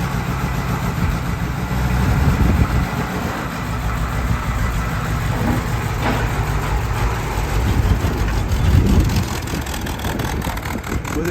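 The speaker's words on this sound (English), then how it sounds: "fired Two Step up with the freshly rebuilt M38 engine" A freshly rebuilt M38 engine idles steadily in a flat fender Jeep, a close, continuous low rumble with slight surges, heard alone without talk.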